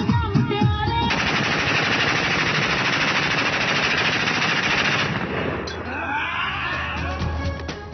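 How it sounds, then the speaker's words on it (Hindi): Celebratory aerial gunfire at a wedding, a loud rapid burst of continuous automatic shots that runs for several seconds before breaking into scattered cracks and crowd noise, harsh and close. "शादी की खुशी पर दोस्तों की धड़ाधड़ हवाई फायरिंग"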